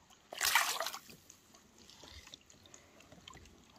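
A released peacock bass hits the water with one sharp, close splash. Quiet lapping and trickling water follow.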